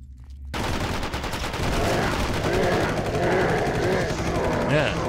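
Continuous rapid AK rifle fire in the Iranian shooter game Ahriman, loud sustained automatic bursts rattling for several seconds, with a voice talking underneath.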